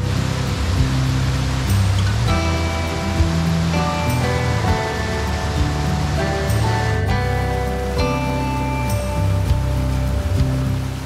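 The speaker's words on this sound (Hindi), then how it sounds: "हम पहुंच गए अड्राई जंगल के एंड पॉइंट पे, जो कि एक खूबसूरत सा अड्राई वाटरफॉल" Adrai waterfall in a monsoon jungle pours in a loud, steady roar of rushing water, constant and close with no pauses, with faint tonal sounds layered over the noise.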